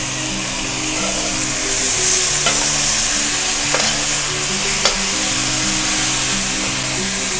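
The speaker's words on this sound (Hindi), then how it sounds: "अब हम इसमें ऐड करेंगे 2 खाने के चम्मच अदरक लहसुन" Ginger garlic paste hits hot oil with golden-browned onions in a pan for chana pulao, giving a steady loud sizzle and crackle throughout, with a few faint stirring scrapes and no talking.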